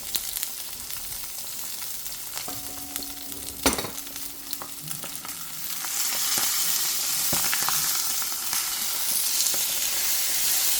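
Salmon frying in a pan, a close, steady sizzle that swells louder in the second half, broken by a sharp clatter of a utensil against the pan near the start.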